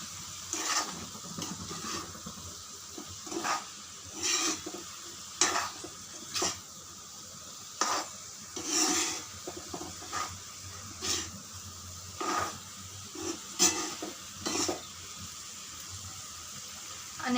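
A finely ground masala paste for a quick brinjal bhaji is stirred in a cooking pan, making regular scraping and sizzling strokes about once a second over quiet background hiss, with no voices.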